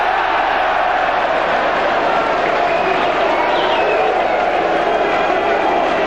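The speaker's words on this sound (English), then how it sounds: "the crowd show their appreciation" Football stadium crowd at Grimsby Town against Bournemouth in 1990 cheering in appreciation, a dense, loud, continuous roar of many distant voices throughout.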